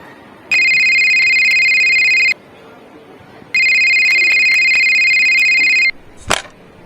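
A mobile phone rings in two long, loud bursts of electronic ringtone separated by a short pause, followed by a brief sharp click.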